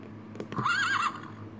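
Electronic horse neigh from a Cocomelon Musical Learning Watch toy: one bright, warbling whinny rising and falling for about half a second, with a couple of soft knocks just before it, played in a quiet room.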